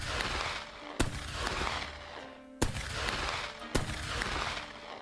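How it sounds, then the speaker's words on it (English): Musket volleys crack out in the Rising Sun game, three sharp loud shots spaced about a second or more apart over a busy battlefield background. "Volley fire, present! Fire!"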